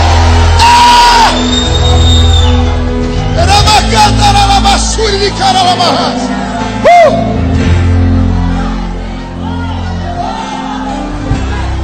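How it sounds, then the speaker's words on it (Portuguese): A church congregation erupts in loud shouting and whooping praise to God, a roaring crowd of voices swelling and surging together for several seconds before settling. "Dá um berro de glória a Deus nesse lugar."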